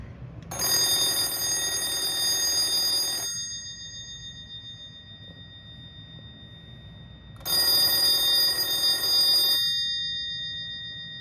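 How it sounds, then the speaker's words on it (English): A Russian Telta TAN-70 telephone ringing loudly with a metallic electric bell, in two rings of about three and two seconds separated by a pause, alone with no talking. "All right, so give it a ring."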